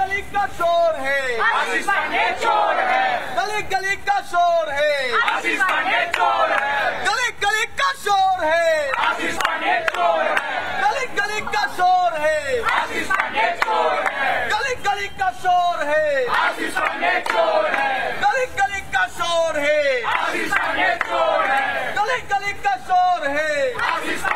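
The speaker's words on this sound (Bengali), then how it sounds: "এই মুহূর্তে তুমি দেখতে পাচ্ছ তারা স্লোগান দিচ্ছেন" Protesting doctors and students chant slogans in a dense crowd, many voices shouting in a steady rhythmic call-and-response that stays loud and continuous throughout.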